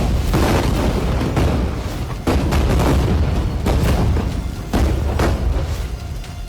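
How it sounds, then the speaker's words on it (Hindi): Repeated heavy booms and rumbling blasts roll one after another, loud and dense, from dozens of bombs falling at once. "कहीं एक साथ दर्जनों बम बरस रहे हैं।"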